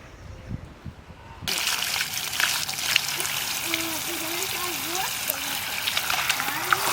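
Water trickles and splashes continuously as a fish is rinsed clean for a steamed fish dish, a steady close wash of running liquid with a voice speaking over it.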